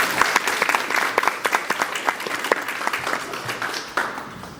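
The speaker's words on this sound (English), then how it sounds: "So one more round of applause." A crowd at an organization's general body meeting applauds: many hands clapping together, with sharp individual claps standing out in an uneven rhythm for several seconds.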